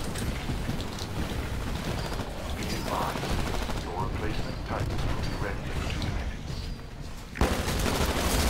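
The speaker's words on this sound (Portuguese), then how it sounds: "Tá atirando em mim." Gunfire in the video game Titanfall during an Attrition match on Colony, a steady wash of rapid shots and crackling combat noise under a player's excited talking.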